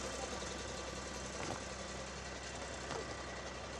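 A truck engine idles steadily at night, a low continuous rumble with faint knocking, heard from a distance with no other sounds over it.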